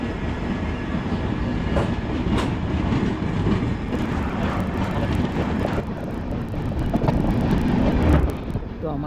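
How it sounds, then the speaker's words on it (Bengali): The Amritsar Mail train runs on the tracks as it enters Varanasi Junction, with a continuous loud rumble, rhythmic clickety-clack from the wheels and occasional metallic squeals, heard from close by. "তো আমার ট্রেন এখন বারাণসী জাংশনে ঢুকছে"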